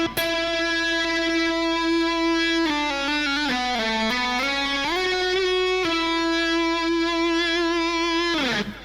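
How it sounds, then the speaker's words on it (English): EBow in normal mode sustaining an electric guitar, one long continuous bowed-sounding tone gliding between pitches with a smooth slide in the middle, loud and unbroken, alone without voices. "It's basically a small device that lets you get a lot more sustain on electric guitars"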